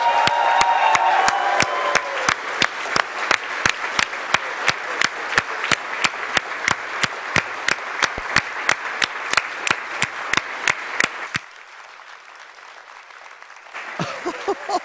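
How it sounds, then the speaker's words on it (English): Audience applause at AGDQ 2016, a speedrunning charity event: a large crowd claps steadily and loudly for about eleven seconds with cheering mixed in, then the noise drops sharply to a quiet room before clapping briefly picks up again near the end. "Give these guys a round of applause."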